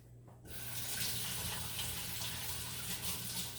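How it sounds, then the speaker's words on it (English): A kitchen tap runs steadily as garden tomatoes are washed beneath it, a constant close splashing rush of water that starts abruptly and continues without talk. "So I'm going to wash these real quick."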